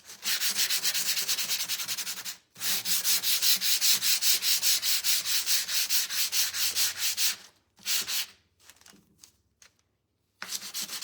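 Heaviest-grit sandpaper scrubs across a wooden door hanger to distress it, in rapid back-and-forth strokes that stop in short pauses and then resume, close and loud.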